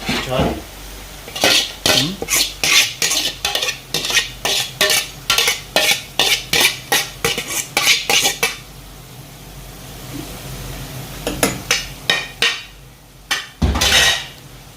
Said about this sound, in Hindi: सारे चावल हमने ऊपर डाल दिए हैं सालन के ऊपर।